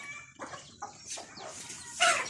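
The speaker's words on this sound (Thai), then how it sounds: "ไล่ไก่ไล่ไก่อยู่" Chickens cluck and squawk in short bursts close by while being chased off, a few scattered calls over quiet background, one louder squawk near the end.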